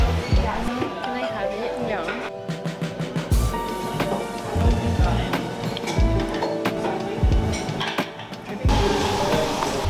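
Summer rain falls outside a cafe window in Copenhagen, a soft steady patter under clinking dishes, rumbling background noise and nearby chatter.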